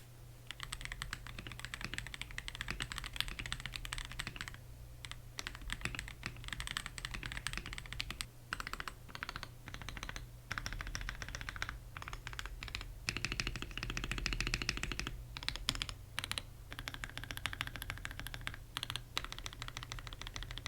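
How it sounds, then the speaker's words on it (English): A budget thocky mechanical keyboard kit in stock form, typed on continuously with a dense stream of close, quick keystrokes and occasional heavier spacebar-like thuds over a low background hum. "here's a sound test of how it sounds in its stock form"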